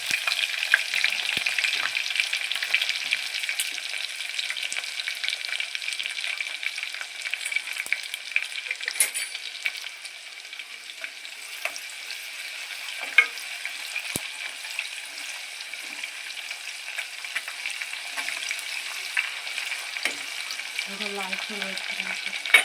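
Chopped onion, garlic and a couple of green chillies fry steadily in a pan for a jackfruit vegetable dish, a continuous moderate sizzle with occasional crackles and faint stirring clinks.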